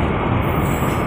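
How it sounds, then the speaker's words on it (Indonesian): A train rumbles past close by near Jatinegara, Jakarta, a dense, loud roar of wheels and carriages that stays steady throughout. "ini ada lagi melintas kereta api dari arah"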